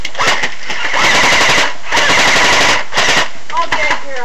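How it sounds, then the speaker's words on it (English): Airsoft guns fire rapid bursts around a corner, loud and close, in several clusters of fast clacking shots separated by brief pauses. "he's shooting around corner"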